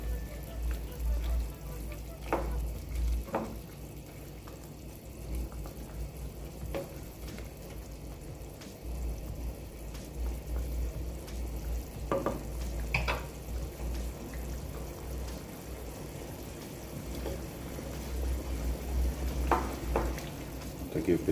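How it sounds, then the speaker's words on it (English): Jamaican stew chicken sizzling in a pot as it is stirred, a steady soft frying hiss with occasional scrapes and clinks of the spoon, moderately close. "So I'll give this a nice stir."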